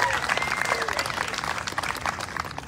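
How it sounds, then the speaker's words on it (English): Audience applause for Pennsylvania community bands at a seaside band festival in Wildwood, New Jersey, a steady wash of clapping across a crowd, moderately loud throughout. "So I wanna give a round of applause for Pennsylvania."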